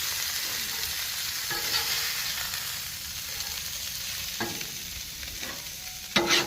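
Hot Italian sausages sizzling on a Blackstone griddle, a steady close frying hiss broken by a few scrapes and clacks of a spatula moving them aside, with a louder scrape near the end.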